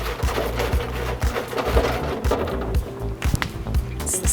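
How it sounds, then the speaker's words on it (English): Crunchy fried orange chicken batter being handled close up, with a busy, dense crackle of repeated crisp snaps and rustles over a low rhythmic thudding background. "You can tell how crunchy that is."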